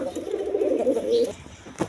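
A female boot-beaked Mosollom pigeon coos at a farm in one sustained rolling call lasting over a second, close and clear, followed by a brief sharp knock.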